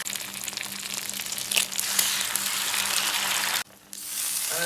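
Large squid sizzling on a flat iron griddle, a steady loud frying hiss with crackles and a few scraping stirs, briefly dipping near the end before the sizzle resumes.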